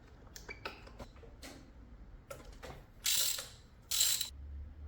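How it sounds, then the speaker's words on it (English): Ratchet clicks in short bursts as spark plugs are loosened from a Honda Civic EG engine, the metallic ticking close and quiet, followed by two louder hissing scrapes. "First we have to remove the spark plugs"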